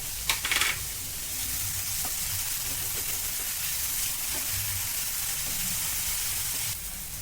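Onion sautéing in a pan with curry leaves and ginger-garlic-chili paste gives a steady, soft sizzle and hiss throughout, with a brief stir clatter at the start.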